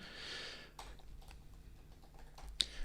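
Fingers tap at a computer keyboard while a Python environment is set up, giving soft, quick keystrokes close by over a low background hum, with one sharper click near the end.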